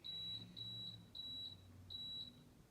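Power XL air fryer oven control panel giving a series of short, high electronic beeps in irregular pairs as the bake timer is set, close and clear over faint background hum.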